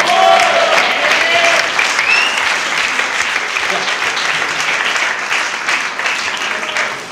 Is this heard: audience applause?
yes